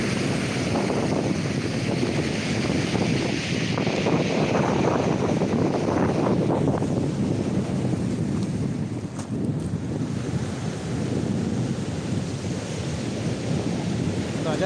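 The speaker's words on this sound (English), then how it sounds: "it keeps getting blown over in this wind." Strong wind buffeting the microphone on the coast during a fishing session, a loud continuous roar and rumble blended with surf, gusting throughout with no pause.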